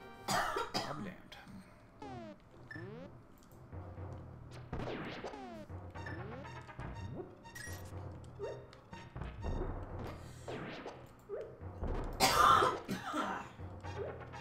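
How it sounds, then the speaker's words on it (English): A person coughs deeply and repeatedly up close, with throat clearing and short spoken words mixed in among the coughs, plus a sharper burst near the end. "It's just a deep cough."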